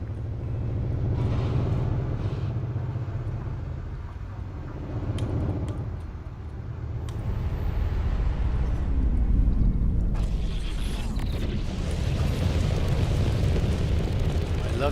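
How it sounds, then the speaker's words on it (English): Panther Clipper ship thrusters in the Elite Dangerous video game roar in a steady, dense rumble with crackling, popping bursts like a string of fireworks. The sound swells and brightens partway through. "love the sound of the thrusters. It just sounds like a bunch of fireworks going off."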